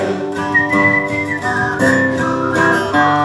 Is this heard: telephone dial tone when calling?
no